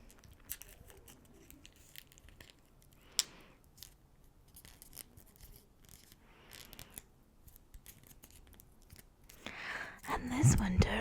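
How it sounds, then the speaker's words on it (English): Sheets of paper being handled and creased while folding paper stars, soft close-up crinkles and taps amid quiet stretches, ending in a louder burst of rustling; a soft whispering voice is heard at times. "I hope you're just hearing the paper."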